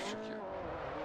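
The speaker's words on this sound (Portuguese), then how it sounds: "Vou tentar soltar um drift aqui." A car drifting in Forza Motorsport 4 on the Xbox 360, a loud, steady engine drone with a sustained tire squeal that holds close and even for about a second.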